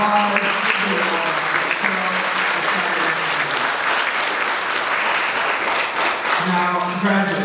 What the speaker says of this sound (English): Applause to you all.